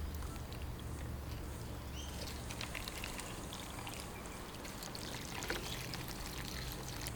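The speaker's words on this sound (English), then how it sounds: "I'll just fill it up, and this is usually what I use to water my seedlings" Water pours steadily into a watering can being filled for seedlings in a home garden, a continuous close splashing rush that runs unbroken throughout.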